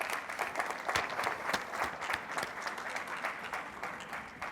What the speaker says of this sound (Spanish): Claudia, un aplauso para ella